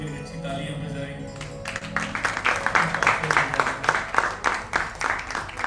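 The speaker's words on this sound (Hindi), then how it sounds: "तालियां बजाएंगे।" A church congregation applauds during a Thursday worship service, steady rhythmic clapping building from soft to loud and continuing for several seconds with voices underneath.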